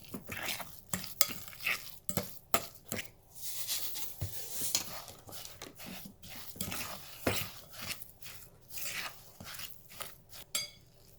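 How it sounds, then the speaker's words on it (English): Hands working breadcrumbs into a meatless chick-n-less patty mixture, soft irregular squishing and crumbly rubbing in a steady stop-start rhythm, close and quiet. "I add and I mix, and then I see what I need and I feel it in my hands for texture"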